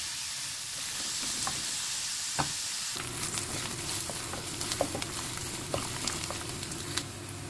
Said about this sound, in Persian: بعدش پیازای خورد شدمون رو بهش اضافه میکنیم تا خوب سرخ بشه.